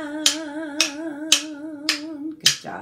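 Rhythm sticks tapped together in a music therapy group, giving five crisp, evenly spaced clicks about half a second apart over a sustained sung tone.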